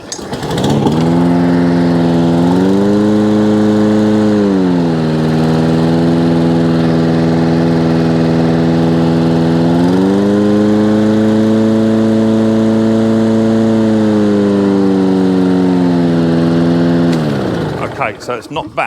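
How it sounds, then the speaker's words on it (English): A Hayter 56 Pro lawn mower engine idles steadily and loudly at close range, its pitch dipping and rising slightly a couple of times before it cuts off near the end. "It may rev its head off, so I'm going to start off in the idle position."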